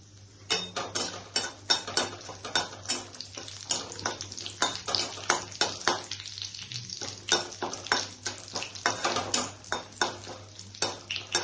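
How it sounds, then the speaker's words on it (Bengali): Whole cumin, coriander seeds, dried chili and a bay leaf crackle in hot oil with cinnamon and cardamom for a pumpkin-seed paneer curry. A steady sizzle runs under frequent sharp clinks and scrapes of a spoon stirring the pan, with no talk. "একটু গোটা জিরা, একটু গোটা ধনিয়া আর শুকনো লঙ্কা দিচ্ছি ফোড়নে, আর একটা তেজপাতা।"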